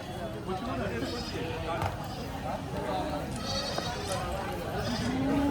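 A Kathiawadi goat bleats a few times in short, wavering calls at a livestock market in Chalisgaon, mixed into steady talking and farmyard background noise.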